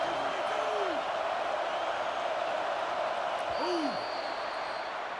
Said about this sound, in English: noise from this big crowd in Happy Valley on 3rd down